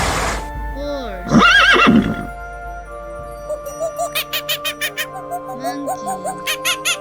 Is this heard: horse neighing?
yes